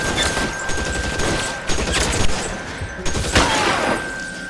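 Shots ring out during a house shootout in a video game, with several sharp gunfire bursts spread irregularly over loud, dense background action.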